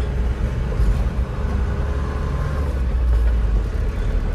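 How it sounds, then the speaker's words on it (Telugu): A loaded 14-tyre cement truck grinds uphill in first and second gear, its diesel engine giving a heavy, continuous low rumble and whir at close range, with no talking. "చూడండి ముందర ఒక సిమెంట్ బండి ఎక్కుతుంది 14 టైర్"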